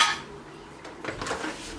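Dishes and cutlery clink together as they are loaded into a home kitchen dishwasher after cooking, with a sharp clatter at the start and a busier run of light knocks near the end, close by and without talk.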